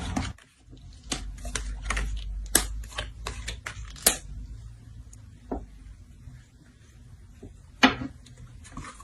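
Tarot cards are shuffled by hand, a run of sharp, close flicking and slapping bursts in uneven clusters over a quiet low background.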